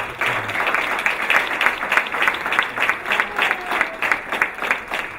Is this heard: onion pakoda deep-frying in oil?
no